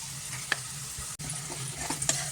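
Cheetal fish seasoned with salt and turmeric fries in hot oil with a steady close sizzle, broken by a few clacks of a utensil turning the pieces and a brief dropout midway; no one speaks.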